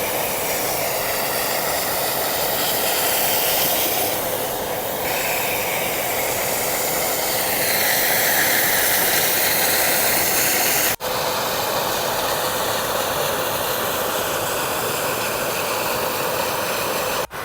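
A Karcher SE6.100 wet vacuum cleaner runs on a carpet with a large carpet nozzle, giving a constant loud whooshing motor roar with airy hiss, steady throughout apart from a brief click near the middle.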